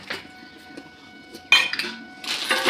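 A metal spoon clinks against a cooking pan while about two spoonfuls of salt go onto chopped onion, chili and crushed garlic, giving a few sharp, close clinks and scrapes with short pauses between.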